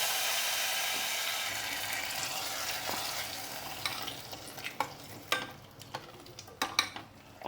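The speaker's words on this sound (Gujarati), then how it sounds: "ઉપરથી વઘાર ઉમેરી દેવાનો" Hot oil tempering with dried red chillies and mustard seeds is poured over a sev curry. A steady, close hiss of sizzling gives way to scattered popping crackles and clinks near the end, with no talk.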